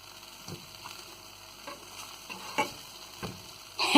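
Vegan quinoa burgers frying in a pan, a soft steady sizzle broken by several light taps and scrapes, ending in a louder burst of crackling.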